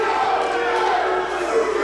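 A crowd at an indoor wrestling event roars and cheers in a sustained, loud wash of voices, steady throughout with no break.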